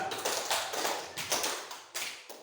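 Hands clap out a classroom rhythm pattern, a quick series of crisp, close claps in an uneven beat that echo slightly in the room.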